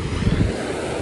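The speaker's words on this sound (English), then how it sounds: "There's the beautiful waves." Ocean waves rolling onto a beach, a steady broadband wash of surf with wind rumble on the microphone, close and fairly loud, with no talking.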